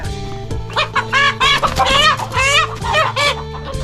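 Several chickens cluck loudly and close by in quick, overlapping bursts, with agitated squawks rising and falling over a few seconds.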